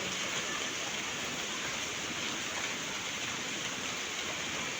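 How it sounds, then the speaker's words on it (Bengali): Light drizzling rain falls as a soft, even, continuous hiss at low volume, with no voices or other sounds over it. "ঝিরঝির বৃষ্টি পড়ছে"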